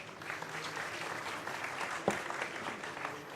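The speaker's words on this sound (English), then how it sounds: "Let's give them a round of applause" A room full of people claps steadily at a business summit panel, a dense patter of applause at moderate distance, with one sharper thump partway through.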